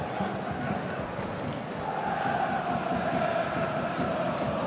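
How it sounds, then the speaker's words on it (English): Boisterous football crowd at East End Park before Dunfermline kick off against Partick Thistle in a Scottish Premiership play-off, a dense continuous roar of voices and cheering, loud and steady throughout, with a commentator talking over it. "Dunfermline preparing to get us underway in front of a pretty boisterous East End Park crowd"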